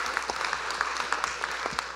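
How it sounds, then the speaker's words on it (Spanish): Audience applause at a highway safety event with the California Highway Patrol, a brief, moderately loud burst of scattered clapping from a small crowd. "Hay ah, que darle otro aplauso."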